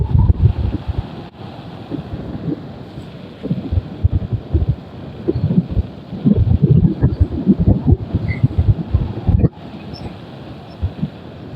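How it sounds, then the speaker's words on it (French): Strong, gusty wind buffeting the microphone in a continuous low roar, with brief dips, no voices, during a bike ride into a headwind on wet ground. "Il y a du vent, il y a du vent, il y a du vent."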